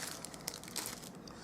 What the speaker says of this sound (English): So now I'll just trim the tails.